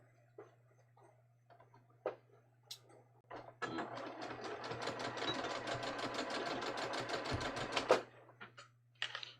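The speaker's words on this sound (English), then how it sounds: "I'm literally just going to be stitching 1/4 inch away from the edge of my pocket pieces." A sewing machine runs in one steady, close burst of rapid stitching for about four seconds, sewing 1/4 inch from the edge of fabric pocket pieces, with a few soft handling clicks before and after over a faint hum.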